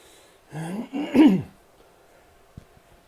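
A man recovering after covid clears his throat during an indoor Zwift bike ride, a close run of three gruff, rasping bursts followed by quiet room tone and a faint tap.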